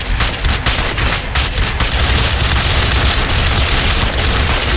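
Shotgun and other gunfire from the video game GTA San Andreas, loud and continuous, with heavy blasts and crackling shots packed together.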